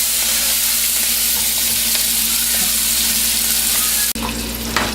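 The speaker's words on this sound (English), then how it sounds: "So you just kind of give it a minute and let it saute." Shrimp sauté in a hot pan for scampi, giving a loud, steady sizzle and crackle close by. Near the end there is a brief stir or shift, and then the frying continues.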